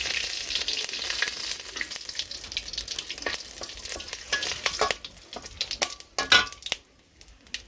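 Cumin, a bay leaf, cardamom and cinnamon fry in hot oil with a bright, steady sizzle and crackle, stirred with scraping clicks that grow sparser toward the end.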